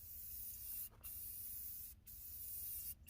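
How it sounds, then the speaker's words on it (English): An aerosol spray paint can spraying onto a tractor transfer tank, a close steady hiss broken by three brief pauses as the nozzle is released and pressed again. "Especially not bad for using your thumb to spray paint."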